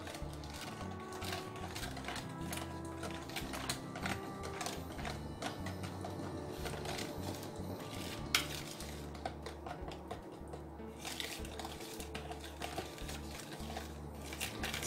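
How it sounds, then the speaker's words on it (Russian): Cocoa being stirred into chocolate Viennese waffle batter in a bowl, a steady run of soft clinking and scraping taps from the utensil against the bowl, continuing throughout with no talking. "Какао и хорошо все перемешиваю."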